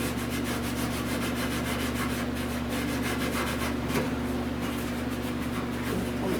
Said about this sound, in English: Scuff it, paint prep.